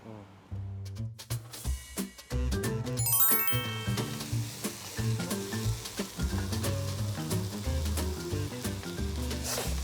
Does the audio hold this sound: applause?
no